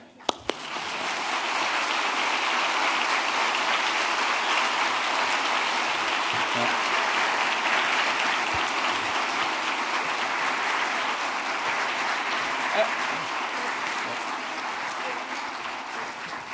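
Sustained audience applause at a Nobel Prize panel session, a dense, even wash of clapping from a large crowd that starts abruptly and holds steady for the full stretch, fading only slightly near the end.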